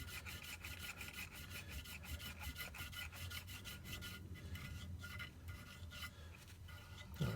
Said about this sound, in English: A little bit of lapping paste just to make it settle itself in.